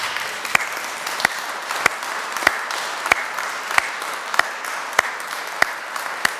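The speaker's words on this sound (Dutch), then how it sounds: "Graag een applaus voor Gemengd Koor Ooij en de kantorij" A church audience applauds a mixed choir and its church choir in dense, even clapping, with a sharp louder clap standing out about every half second, as if some of the crowd clap in rhythm.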